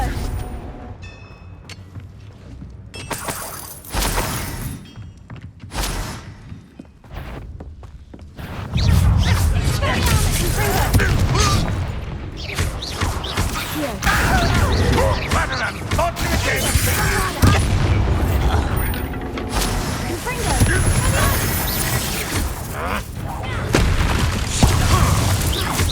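A Confringo fire spell explodes during a Hogwarts Legacy battle. Booming blasts and crackling bursts come first, then a dense, loud roar of continuous explosive noise with voices mixed in.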